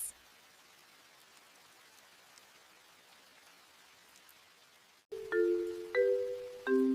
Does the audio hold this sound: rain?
yes